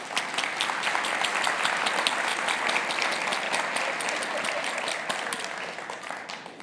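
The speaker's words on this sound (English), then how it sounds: "Round of applause for the family." Warm, sustained applause from a forum audience honoring a speaker's family, dense and even clapping throughout that eases slightly toward the close.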